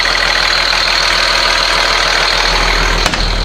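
Caterpillar C7 7.2 liter turbo diesel idling in a 2007 Blue Bird All American school bus, a steady, loud low rumble with a constant diesel clatter, holding even until a brief dip at the very end.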